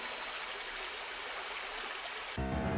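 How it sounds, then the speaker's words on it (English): Cartoon water gushes steadily from a leaking reservoir in the woods, a continuous rushing stream like a small waterfall, with a brighter musical swell joining near the end. "The reservoir has sprung a leak."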